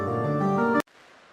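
Sustained Nexus organ chord with EQ and a long 8-second reverb for a church effect, rich and full, cutting off abruptly into a quiet reverb tail.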